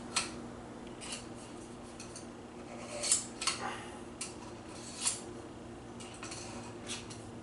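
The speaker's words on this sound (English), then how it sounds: "I'm going to run it through a few times each knife." A knife is pulled repeatedly through a Bavarian Edge knife sharpener, giving a series of short metallic scraping swipes at irregular intervals, close-up and fairly quiet, with no talk.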